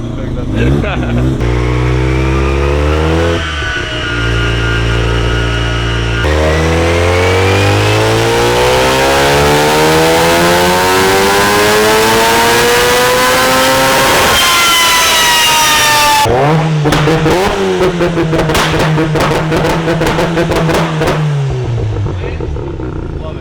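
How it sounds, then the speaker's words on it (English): A Mazda RX-7 FD rotary engine revs hard and loud, climbing through long rising sweeps, dropping, then stuttering and breaking up with rapid popping near the end, all close up. "Just take in the beautiful rotary noises."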